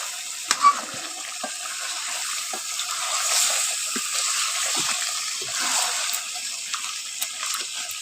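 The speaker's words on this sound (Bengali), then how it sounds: "এখন ভালো করে একটু কষিয়ে নিই।" Meat and spices stir-fried in a pan on a home stove, a continuous soft sizzle with scattered scraping and clinking of a spatula against the pan, close and steady throughout, with no talking.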